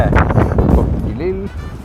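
Gusty wind buffets the microphone outdoors at Morecambe on a wet, wild day, a loud low rumble running throughout while a person talks over it and a short tonal whine rises near the end.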